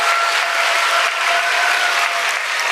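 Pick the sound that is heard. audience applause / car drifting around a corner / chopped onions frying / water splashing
audience applause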